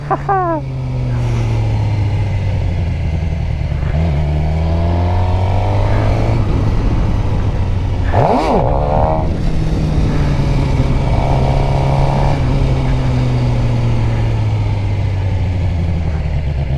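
Stock Suzuki GSX-R 600 motorcycle engine held in first gear, a loud steady drone with a few sharp revs rising and falling, recorded close up with constant wind rush.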